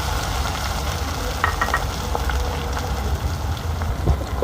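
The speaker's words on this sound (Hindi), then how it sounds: "अब इसमें हम प्याज डाल देंगे।" Onions frying in a pan with garlic-ginger paste for an egg and potato curry, giving a steady, close sizzle with a few faint stirring clicks and no talking.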